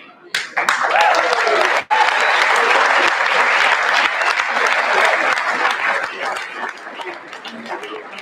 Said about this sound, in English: Next for applause, welcome to the stage, Jack McCarran, Tommy Freeman, Gavin Dugan.